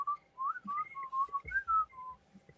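A person whistles a short, wandering tune of sustained notes that slide up and down. The whistling is close and fairly clear over faint background noise, with no speech.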